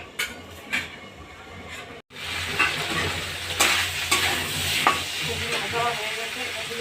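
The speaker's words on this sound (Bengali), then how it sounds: "আর একটু ভালো করে ভাজতে থাকবে" Vegetables fry with spices in a pan, a steady loud sizzle with scraping stirring strokes and a few metal taps, briefly broken by a short pause before the frying noise resumes continuously.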